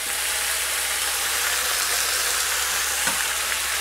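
Bacon frying in a pan of fat as part of a one-pan breakfast, making a dense, continuous high sizzle that stays steady and close throughout, with one faint clink near the end.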